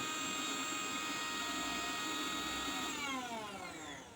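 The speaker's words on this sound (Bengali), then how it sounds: "এরপর এটা আমি ভালো করে বেটে নেব মিক্সিতে ব্লেন্ড করে নেব" An electric mixer grinder blending poppy seeds with turmeric and salt sends out a faint, steady high motor whine that shifts in pitch toward the end.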